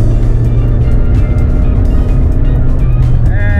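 Race car engine running in second gear under partial throttle, a loud, steady droning roar with a slight rise in pitch toward the end.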